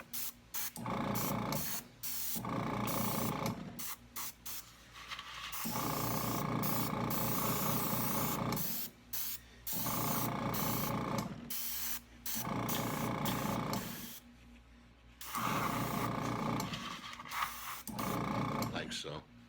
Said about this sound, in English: we're going to start airbrushing the base